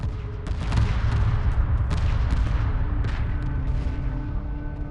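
Ion cannon frigates unload sustained blue ion beams in the space strategy game Homeworld, a dense, continuous roar of energy fire with repeated heavy bursts layered over a deep rumbling battle bed.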